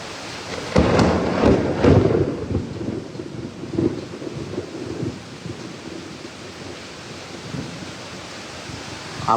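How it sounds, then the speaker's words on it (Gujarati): Thunder cracks and rumbles loudly through heavy night rain, with a strong clap near the start, further rolls that fade into a steady wash of falling water, and no talk. "આપ પણ સાંભળી શકશો કે કેવા પ્રકારના વીજળીના કડાકા થઈ રહ્યા છે"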